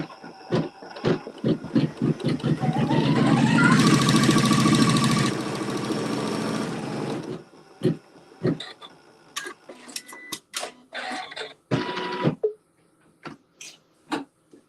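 A sewing machine runs a steady burst of stitching through a quilt seam for a few seconds, with the needle lowered into the seam, followed by quieter handling clicks and taps.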